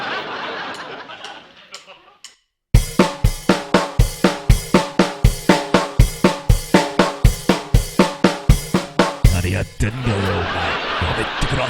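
Percussive music in 13 grouped as 2+3+2+3+3 pounds out a steady run of sharp, loud hits for about seven seconds, framed by brief noisy chatter and laughter before and a dense wash of sound afterward.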